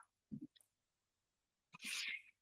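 A single sharp sneeze from an audience member during a presentation, preceded by a couple of quick breaths and a short intake, close and fairly quiet.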